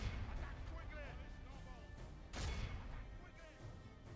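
Artillery fire in Medieval II: Total War during a battle with Lithuanian forces: a dull boom stands out midway over a constant battlefield din of distant clashing and shouts, while someone talks throughout.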